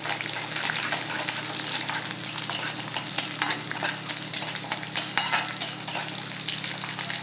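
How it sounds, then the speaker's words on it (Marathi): Chili, curry leaves and white sesame stirred together in a hot pan while making a jowar breakfast dish, with a busy frying crackle and scraping spoon strokes against metal, close and steady without talk. "सगळं व्यवस्थित आता मिक्स करूया।"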